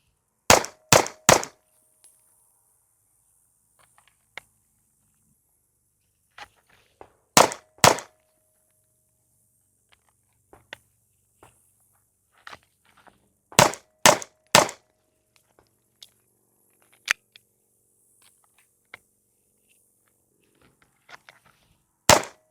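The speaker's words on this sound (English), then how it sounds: "let's take a couple of shots and see exactly how it works" Handgun shots ring out at an outdoor shooting range in short clusters of two or three sharp, loud cracks, separated by long quiet gaps with faint clicks and handling noises, and no speech.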